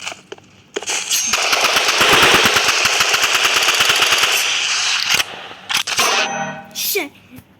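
Rapid automatic gunfire from the video game Rivals, a loud sustained burst of dense shots lasting several seconds, followed by a few shorter bursts and clicks.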